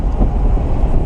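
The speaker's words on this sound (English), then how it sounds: "DNA motoring exhaust." Supercharged 1999 Saleen running a cheap DNA Motoring aftermarket exhaust, giving a steady, loud, deep rumble for about a second with no voices over it.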